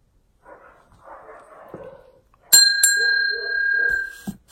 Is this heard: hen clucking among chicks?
no